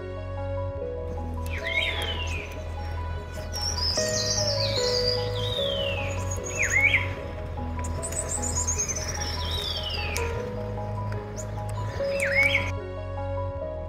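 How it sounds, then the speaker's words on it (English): Birdsong rings out along a Himalayan trail toward Kanchenjunga, with repeated whistled, sweeping calls from a few birds over a steady low hum, moderately near and clear, with no talk. "The captivating sounds of birds also added to the trail's enjoyment."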